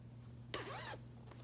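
A zipper pull on a cross-stitch project bag is drawn once in a quick, close rasping zip lasting under half a second, over a faint steady hum.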